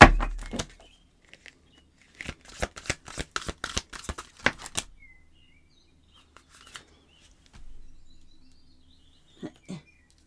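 Tarot cards shuffled close by: a short start, then a quick burst of crisp riffling snaps lasting a couple of seconds, followed by near silence with a few faint taps.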